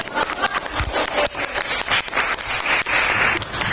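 A classroom of students applauds a student group after its presentation, a lively patter of many hands clapping at close range that swells and dips over a few seconds, with no voices over it.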